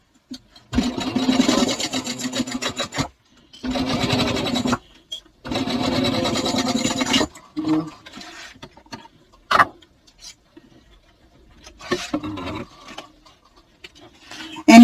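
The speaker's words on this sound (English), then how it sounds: "So now I'm going to sew it across using a 1/4 of an inch seam allowance" Sewing machine stitching a 1/4 inch seam across a fabric bag, three sustained whirring runs of steady motor hum and needle chatter separated by short pauses, followed by quieter intermittent fabric handling and clicks.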